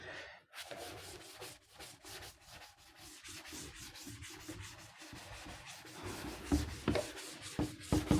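A board being rubbed clean with a duster during a physics lesson on induced EMF, a close, continuous run of rhythmic scrubbing strokes that grows louder toward the end, with no talk.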